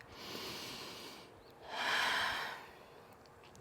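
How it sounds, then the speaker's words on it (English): Slow audible breathing during a yoga hamstring flow, a long airy exhale followed by a louder, fuller breath, close and alone without speech. "Taking one more breath."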